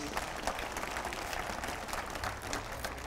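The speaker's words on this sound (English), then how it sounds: "If I can get a round of applause for the mothers in this audience" A lecture audience applauds the mothers among them, a steady wash of clapping that fills the whole stretch at moderate level without a break.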